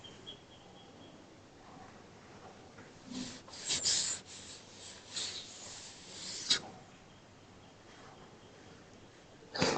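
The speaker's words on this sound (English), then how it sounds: "Just hold on, let me rub this out." An eraser rubs out handwriting on a slightly greasy writing pad, giving quiet scratchy rubbing strokes in short bursts with pauses between them, ending in a final sharp scrub.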